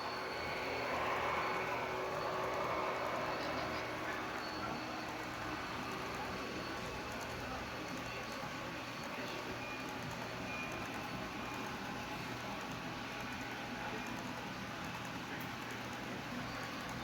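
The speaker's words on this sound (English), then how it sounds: "This train number 97." A Santa Fe freight train rumbles past steadily for the whole stretch, a broad continuous roar with low engine drone and faint higher rail noise, slightly louder at the start.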